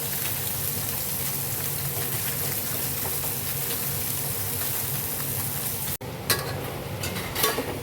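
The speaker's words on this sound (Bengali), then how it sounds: "এবার মান্দিলিটা ফ্রাই করছি" Mandili fish frying in a pan, a constant dense sizzle and hiss that cuts off briefly, then returns with a few sharper crackles and clatters.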